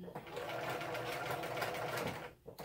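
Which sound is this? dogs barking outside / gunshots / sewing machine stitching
sewing machine stitching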